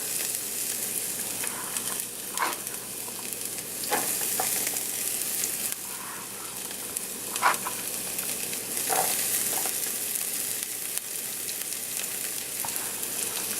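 Onions hiss and crackle steadily in hot olive oil in a pan, a continuous close sizzle with occasional clicks and scrapes of stirring, no talking.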